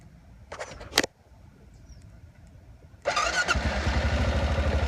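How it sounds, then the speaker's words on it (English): A 2007 Honda Rincon 680 ATV fitted with a plow fires up after a couple of brief clicks and cranking noises, then settles into a loud, steady, close idle. "So if you turn the machine on here,"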